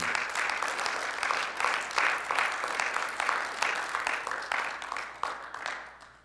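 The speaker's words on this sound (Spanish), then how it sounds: "¿Puede darle un fuerte aplauso al Señor?" A church congregation breaks into strong applause for the Lord, many hands clapping in a dense, uneven patter that swells and then gradually thins out toward the end.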